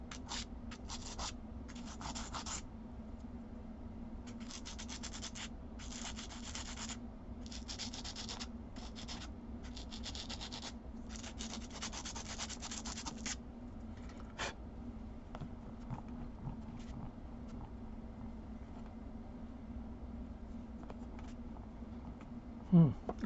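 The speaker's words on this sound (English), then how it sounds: "You can use the sandpaper on an edge." Repeated dry scratchy strokes of sandpaper rubbing along an edge, coming in short bursts with pauses, close and moderately quiet.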